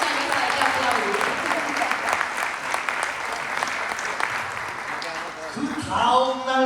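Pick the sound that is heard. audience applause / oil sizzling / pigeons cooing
audience applause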